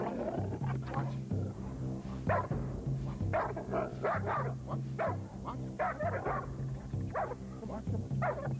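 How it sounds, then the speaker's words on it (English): A protection-trained domestic dog barks on command as an alert, a run of loud, repeated barks heard close up throughout, with other sounds mixed in underneath. "I'm going to tell Bertram to alert the dog"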